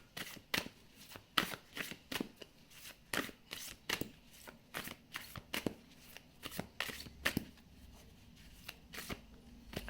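Tarot cards being shuffled by hand, a rapid series of soft riffling bursts and papery snaps in an uneven rhythm, close and quiet with no talk.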